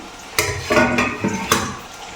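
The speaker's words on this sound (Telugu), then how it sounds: "ఇలా పెట్టేసుకుని అటు ఇటుగా కొద్దిగా వేపేసుకుందాం." Fish pieces frying in a pan, with a few sharp clatters of a utensil against the pan over a steady background sizzle, close and moderately loud, no talking.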